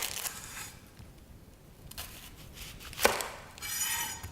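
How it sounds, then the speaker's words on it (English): A knife cuts the end off an onion on a cutting board, a few quiet chops and taps with one sharper crisp strike, close and alone. "With the onion, what you want to do is you always want to cut the end first."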